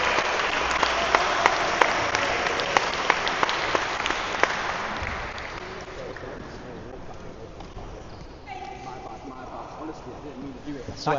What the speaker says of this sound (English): That clapping's gonna break the microphone.